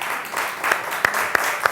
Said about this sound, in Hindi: बजाओ बजाओ, तालियां बजाओ।